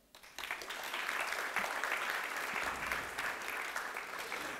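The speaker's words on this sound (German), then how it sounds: "Und jetzt dürfen Sie einmal klatschen." Audience at a cannabis conference welcome address breaks into applause: a quiet start, then many hands quickly swell into steady, full clapping that holds loud and slowly eases near the end.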